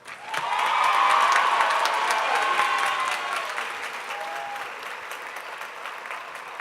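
Applause swells quickly from a large crowd at a high school graduation ceremony, holding loud and dense, then gradually thinning and fading, with a few cheers mixed in.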